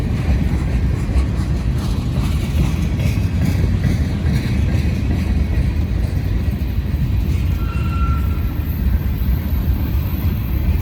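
A long freight train of boxcars with a tanker car mixed in rolls past near Heaton Street, a loud, steady rumble of wheels and cars that never lets up, with wind buffeting the microphone throughout.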